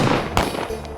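A single sharp gunshot bang, fired in celebration at a wedding, cracks out once against a busy, noisy background.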